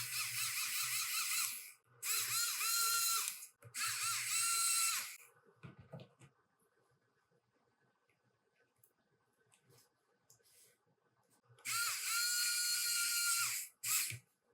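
A powered T5 Torx screwdriver drives screws back into a Lenovo Yoga 730 laptop in several short, high-pitched whirring bursts, close and fairly loud, separated by quiet gaps with faint clicks.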